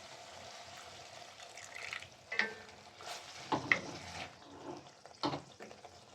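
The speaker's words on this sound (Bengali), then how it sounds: "দিয়ে মশলাটা ভালো করে কষিয়ে নেব" Masala of dried chili powder, turmeric and coriander powder stir-fried in a pan for a duck curry, with a steady soft sizzle broken by several louder stirring scrapes, close and without talk.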